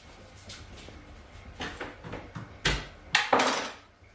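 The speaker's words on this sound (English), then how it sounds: "Right, peel some garlic." Garlic cloves being peeled on a board give a scattered run of soft knocks, taps and papery rustles, close and fairly quiet, irregular with several sharper clicks near the end.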